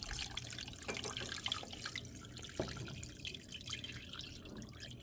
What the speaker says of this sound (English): We're going to add our 4 cups of water.